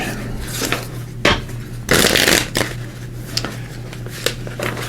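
Tarot cards are shuffled in quick bursts of riffling and slapping, several sharp shuffles close up over a faint steady hum.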